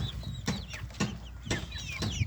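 Young chicks being fed give high, thin peeps and small clucks over soft, rhythmic pecking thumps at close range, all fairly quiet.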